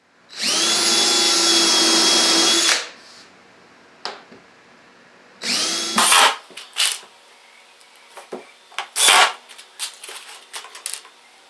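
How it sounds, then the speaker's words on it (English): A power drill drives 8 by 3/4 wood screws through the back of a bamboo-inlaid coffee table, one long loud whirring run, then a second shorter burst, followed by scattered knocks and handling clatter. "just drilled and put an 8 by 3/4 wood screw through the back to hold those in"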